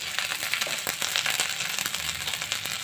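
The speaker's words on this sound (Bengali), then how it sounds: "ভালো করে নেড়ে চেড়ে মশলাটা ভালো করে কষানো হয়ে গেছে" Spices with turmeric and salt sautéed and stirred in a pan, giving a dense continuous sizzle with frequent small crackles and stirring scrapes, close and steady throughout.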